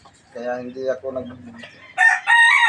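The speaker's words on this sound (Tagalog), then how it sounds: "Mahal ko kasi itong aking mga manok." A person speaks briefly, then a jungle fowl rooster crows loudly nearby, its call rising in a strained, drawn-out cry.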